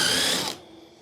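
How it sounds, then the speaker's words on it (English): A power drill bores a hole in plywood with a loud, high whirring burst that stops sharply after about half a second, leaving a faint lower hum and quiet room tone. "just take our drill, come in here, put the drill bit right there"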